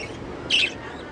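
A single short chirp from a baby budgerigar, a bright, fairly close tweet that rises out of quiet room background.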